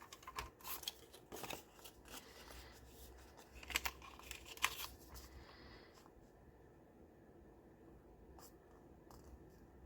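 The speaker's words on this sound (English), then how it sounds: "we're going to cut this end off here." Scissors snip through paper while a folio is made, a handful of faint crisp cuts and rustles close by in the first half, then near quiet.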